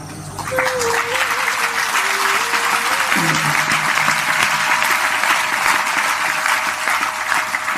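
Audience clapping during a devotional satsang discourse, dense sustained applause from a large crowd running throughout, with a held sung or spoken tone over it.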